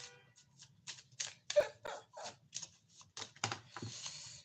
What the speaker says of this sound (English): have to shuffle in the old-fashioned way.